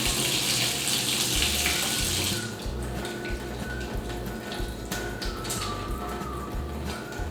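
Running tap water pours loudly as hands are washed under the faucet, the stream softening after a couple of seconds into splashing and rubbing under the steady flow.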